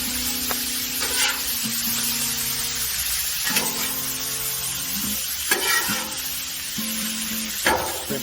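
Shrimp scampi with garlic and lemon juice sizzling on a Blackstone flat-top griddle, a continuous close crackle with intermittent spatula scrapes and stirring clatter.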